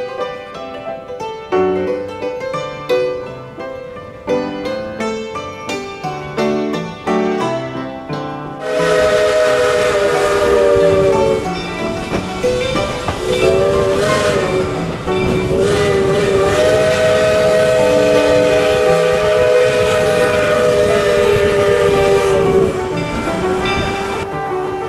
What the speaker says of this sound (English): We hope you've enjoyed riding along with us on the Mount Rainier Scenic Railroad.